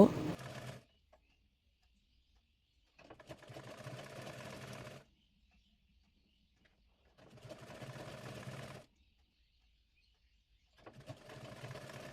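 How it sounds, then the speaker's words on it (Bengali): A sewing machine stitches frill fabric onto baby pants in four separate runs of steady whirring, each lasting one to two seconds, with silent pauses between them. "প্যান্টের কাপড়টির উপরে কুচির কাপড়টি রেখে সেলাই করে নেব"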